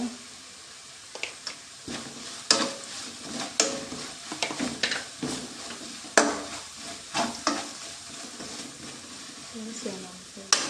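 Egg masala fries in a pan with a constant sizzle, broken by repeated scraping and clinking strokes of a spatula stirring, and a voice talks intermittently.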